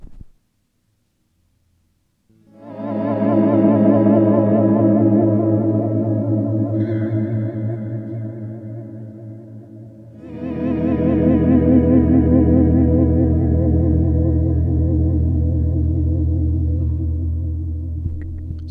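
Guitar played through a Walrus Audio Slö reverb pedal: two long, swelling chords, each fading in slowly and sustaining in a thick, washy ambient tail, loud and alone after a brief silence.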